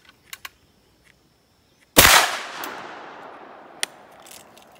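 A single loud blast from a 32 gauge shotgun loaded with buckshot, round balls or slugs. The sharp report rings out and decays over a couple of seconds, with a few small clicks and handling noises before and after it.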